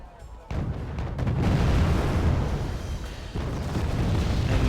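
Mortar fire in the war strategy game Wargame AirLand Battle: heavy, rumbling explosion booms that swell loudly after a short quiet start, with sustained low-end crashes and a second onset near the end.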